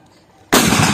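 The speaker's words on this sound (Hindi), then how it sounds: "तो आप लोगों ने देखा कि यह कैसे धमाका कर रही है" A homemade potato gun, built as a farm device to scare off birds and nilgai, fires with one sudden loud close bang that cuts in after quiet and rings on as a broad, roaring blast.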